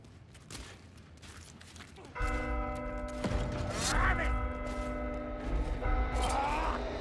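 A large bell tolls in Warhammer Vermintide during The Righteous Stand, its sustained metallic ringing with layered overtones swelling and lingering over background combat noise.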